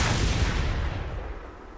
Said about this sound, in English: Alright, let's check out this shotgun.